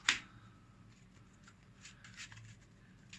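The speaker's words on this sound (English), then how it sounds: "You're gonna shuffle your deck a little bit." A deck of trading cards for a Yu-Gi-Oh style game is shuffled once in a quick, crisp riffle at the start, followed by faint handling sounds and quiet table noise.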